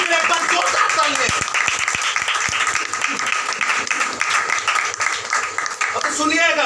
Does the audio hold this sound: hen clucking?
no